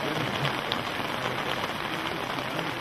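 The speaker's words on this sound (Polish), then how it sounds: "My no ten deszcz przetrzymamy." Steady rain falls outdoors, a constant close hiss of drops pattering on surfaces that holds even and unbroken throughout, with no voices over it.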